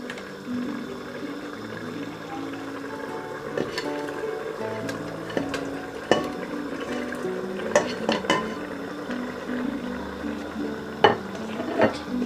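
Salted fish goes into a simmering shrimp and tomato sauce in a pan, with scattered clinks of a utensil against the pan and soft stirring scrapes over a low background.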